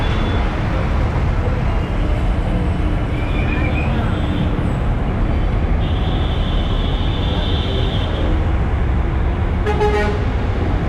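Engine drone and road rumble from inside a city bus on route 170C from Guindy to Thiru Vi Ka Nagar, moving through traffic, with distant horn toots and a brief high beeping near the end.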